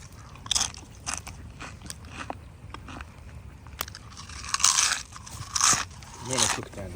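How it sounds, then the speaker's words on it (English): Doritos chips are munched at a bush campsite by a campfire, crunchy bites arriving in irregular bursts that grow louder toward the end, close to the ear. "As we munch our way through Doritos."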